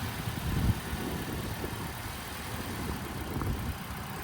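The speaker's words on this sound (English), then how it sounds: "Engine sounds really good on this one." A car engine idles steadily at an airport auction with a low, even rumble, close by and fairly quiet, with no voices over it.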